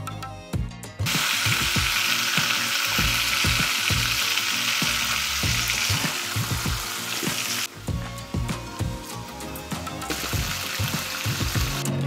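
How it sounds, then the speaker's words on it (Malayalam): Pearl spot fish (karimeen) frying in hot coconut oil in a pan, a loud steady sizzle and crackle with intermittent clinks and scraping, close up and without talk. "നമുക്ക് ഈ കരിമീൻ വറുക്കാനായിട്ട് പാൻ വയ്ക്കാം, വെളിച്ചെണ്ണ ഒഴിച്ച് കൊടുക്കാം"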